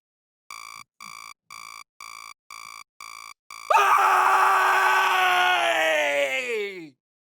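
A beeping alarm sounds seven evenly spaced times, then a person lets out a long, loud, wavering morning scream that slowly falls in pitch before cutting off.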